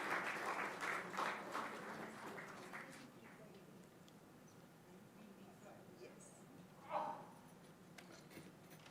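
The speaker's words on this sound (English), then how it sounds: "A round of applause as we extend our congratulations." Applause at a women's achievement awards event, brief clapping in the opening seconds that quickly fades into quiet room tone with a faint murmur, then a short isolated sound near the end.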